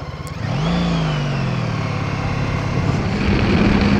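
A Honda Goldwing F6B motorcycle engine pulls away on a test ride, revving up with a rising then levelling drone that holds a steady, close, loud hum.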